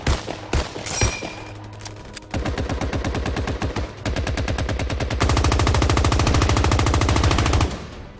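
Rapid automatic fire from video game weapons, a few single shots and short bursts followed by a long sustained stream of machine-gun rounds, loud and close with no talk.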